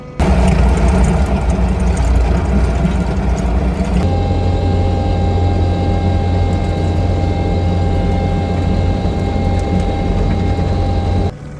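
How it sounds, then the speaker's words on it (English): Engine of a fence-removal machine on a cross-fence job runs steady and loud, straining as it bogs down low on power, its droning pitch dropping noticeably partway through and holding there, close by, with no talking. "So the machine's kind of bogging down, kind of low on power"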